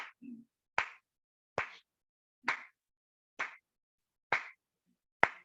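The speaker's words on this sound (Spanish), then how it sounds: "yo voy aplaudiendo y no voy cambiando ni más rápido ni más lento el aplauso" Seven single hand claps struck at an even, unchanging pulse, each sharp and close with a short decay and clear silence between, no talk.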